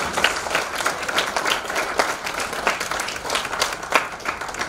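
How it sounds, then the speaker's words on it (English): Audience applause at a student innovation challenge award ceremony, a sustained dense patter of many hands clapping in a large room, steady and fairly loud throughout. "Can we have a round of applause to all the change makers here?"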